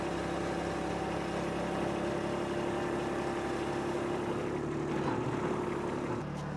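A tractor engine runs steadily during logging work with tongs, a constant droning hum at moderate distance with no pauses and no voices.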